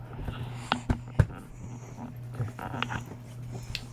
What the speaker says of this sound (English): This is her puppy dog